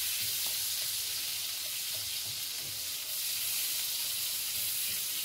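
A salmon fillet frying skin-side down in butter with garlic, giving a steady soft sizzle and hiss throughout, fairly quiet and unbroken, with no talk over it.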